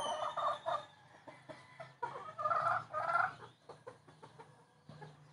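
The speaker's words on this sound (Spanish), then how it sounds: "Aquí te dejo el canto de los gallos." Roosters crow in a series of loud, near calls, several overlapping crows rising and trailing off, with softer clucks and other fowl noises in the quieter gaps between them.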